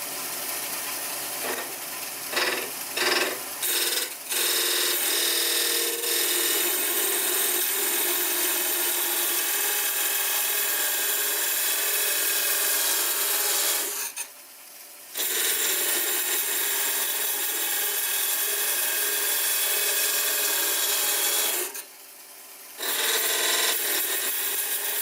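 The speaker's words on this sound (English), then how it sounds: "And now I'm going to take some of this waste wood away with this parting tool." Parting tool cutting waste wood on a wood lathe spinning around 1200, a continuous bright scraping hiss close up, broken by two short pauses where the tool lifts off, with no talk.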